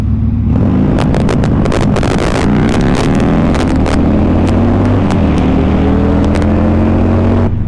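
Harley-Davidson Sportster motorcycle pulling hard through a long first gear, its engine note climbing steadily beneath loud, constant wind buffeting on the microphone, with a second bike nearby.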